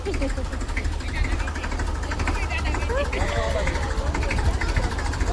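Tractor engine idling outdoors with a steady low rumble and faint knock, heard under people talking nearby.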